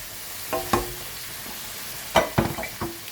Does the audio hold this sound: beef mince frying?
yes